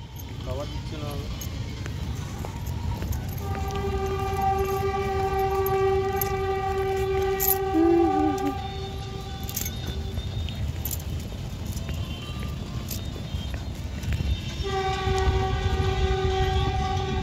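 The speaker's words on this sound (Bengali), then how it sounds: "এটা ট্রেন আছে না?" A train rolls past with a continuous heavy rumble, sounding several sustained horn blasts, while people talk nearby over the noise.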